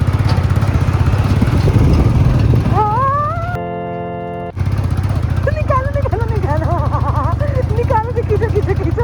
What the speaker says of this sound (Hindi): बाइक को पावर ऐसी मिलती है।